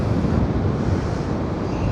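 Rough sea waves crash along the Blackpool seafront under strong wind, making a constant loud roaring wash of surf and blustery gusts buffeting the microphone.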